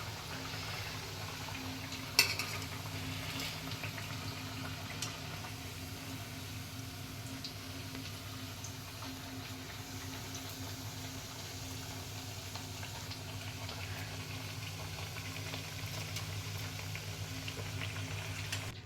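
Alu vadi, colocasia leaf rolls, frying in hot oil, giving a steady close bubbling sizzle that runs throughout, with one brief clink near the start.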